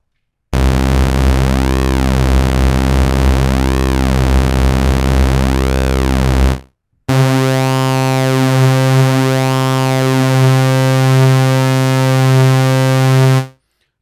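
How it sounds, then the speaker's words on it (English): Two sustained synthesizer tones from SynthMaster 3 in a row, each swirling with a slow, sweeping chorus effect, separated by a brief silence. "So basically, it actually sounds like a chorus"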